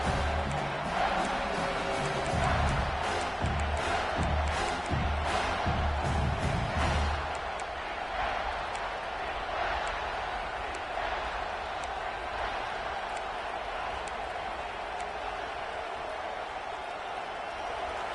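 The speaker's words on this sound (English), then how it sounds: "this crowd is at fever pitch" A football stadium crowd roars during a third-down play in the red zone, a dense, far-off wash of cheering that swells early and then settles into a sustained background rumble.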